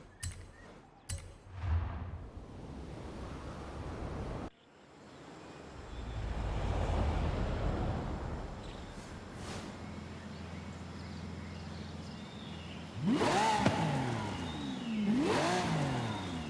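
A 2012 Lamborghini Aventador LP700-4 in Forza Horizon 5 revs its engine in two sharp rising bursts near the end, after a steady low engine drone with faint background noise.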